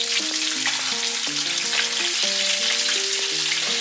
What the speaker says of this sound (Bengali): প্রথমে আমি চিকেনটা ফ্রাই করে